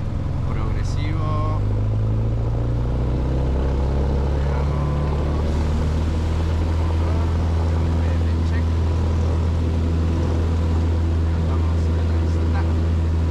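A small airplane engine drones steadily and loudly during takeoff, its pitch climbing gradually as power builds, with voices talking faintly over the constant cabin roar.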